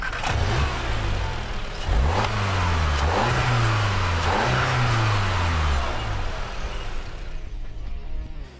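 A 2.0 engine in a TTS convertible revs hard through repeated rising sweeps, each pull climbing and dropping as gears change, loud and close before fading away at the end.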